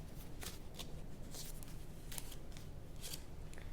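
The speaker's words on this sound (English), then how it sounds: "Just gonna go ahead and shuffle the deck." A deck of tarot cards is shuffled by hand in a quiet room, several quick riffling bursts in an irregular rhythm, close and crisp, with no voice over it.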